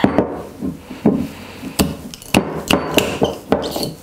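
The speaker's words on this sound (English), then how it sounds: "Okay, so let's open up the can." Someone struggles to open a can of coconut milk, with a series of sharp metallic knocks and clunks at irregular intervals, close and fairly loud, with no talking.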